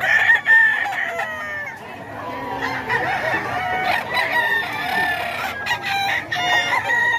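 Several roosters and chickens crow and cluck among a keeper's flock of stag gamecocks, with loud overlapping crows and busy clucking close by throughout, no talk.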